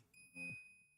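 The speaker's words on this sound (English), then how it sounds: "Oh, we got a loud beep." An Anycubic Kobra S1 Max Combo 3D printer gives a steady high electronic beep that holds through the second, with faint low rumble and a brief muffled sound near the end.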